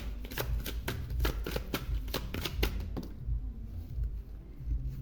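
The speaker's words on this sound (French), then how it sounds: "Je vais prendre une carte du tarot." Tarot cards being handled and drawn: a fast, even run of crisp card flicks and riffles close by, then quieter shuffling and soft sliding as the cards settle, with no talking.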